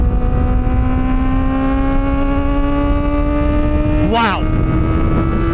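A Kawasaki ZX-4RR with a loud aftermarket exhaust holds a steady high-pitched drone whose pitch creeps upward, then a sharp rev swoops up and falls back near the end; a voice briefly exclaims over it.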